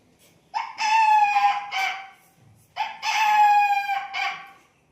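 A voice imitates a rooster, giving two long, loud cock-a-doodle-doo crows up close with a short pause between them.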